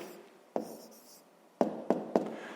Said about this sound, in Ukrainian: Ну і записуємо тоді 20 тонн